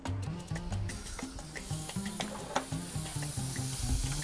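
Butter sizzling in a hot stir-fry pan, a bright continuous frying hiss broken by repeated clinks and scraping knocks of utensils against the pan, close and fairly loud, with no talking.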